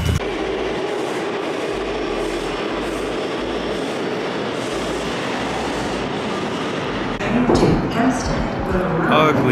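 An elevated train rumbles steadily through an overhead station in New York City, a loud continuous roar that swells near the end with rattling and squeal-like clatter.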